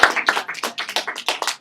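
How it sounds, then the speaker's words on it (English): A small audience claps for volunteers at a stress management workshop, a brief, close patter of individual hand claps with a loose rhythm. "Let's give a round of applause."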